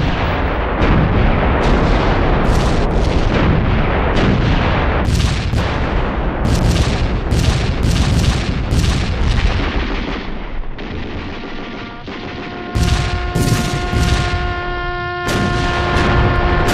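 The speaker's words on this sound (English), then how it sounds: "Both sides fired off vast quantities of ammunition in an attempt to blast the other into submission" Dense World War I battlefield gunfire: rapid volleys of artillery and rifle shots with booming explosions, loud and continuous, ending with a sustained ringing tone under the final bursts.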